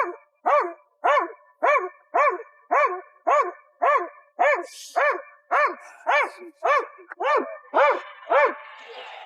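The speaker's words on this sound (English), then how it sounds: "You didn't know there was a dog in there?" A dog shut inside a police car barks loudly and steadily, about fourteen sharp, evenly spaced barks in a row, close and insistent, with no talk over them.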